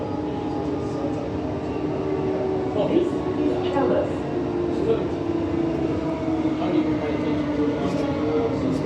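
Steady rumble of a Perth A-series electric train running along the Armadale Line tracks, a continuous low roar with a brief spoken announcement over it.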